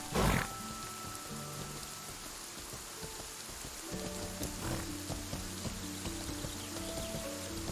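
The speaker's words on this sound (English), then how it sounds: "the rain only became stronger, instead of becoming weaker" Heavy rain pours down in the Mortal Online 2 game world, a constant hiss of drops hitting surfaces with a sharp splash at the start and faint tonal game sounds drifting underneath.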